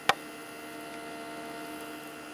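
PC water cooling pump running at 12 volts on full power, a faint steady hum with a thin high-pitched whine, alone after a single brief click at the start.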